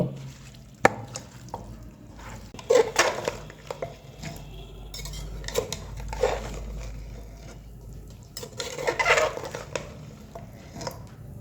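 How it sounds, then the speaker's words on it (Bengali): Spiced beef trotters are stirred in a pressure cooker on the stove, with intermittent scraping and clinking of a spoon against metal in several bursts. "এটাকে আমি এখন চুলায় বসিয়ে দিয়ে কিছুক্ষণ কষিয়ে নেব"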